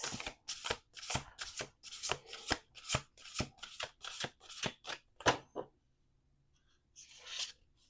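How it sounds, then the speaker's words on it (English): Oracle cards being shuffled by hand in a rapid run of about fifteen crisp riffling bursts, close and fairly loud, then a short pause and one last softer shuffle. "Let's do one more shuffle."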